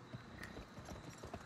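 Horse hooves clip-clop in a steady rhythm as a horse is ridden in a video game, with a brief whinny-like accent mixed into the busy game audio.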